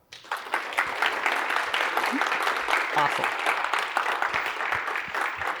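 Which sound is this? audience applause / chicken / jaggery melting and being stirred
audience applause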